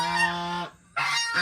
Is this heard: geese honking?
yes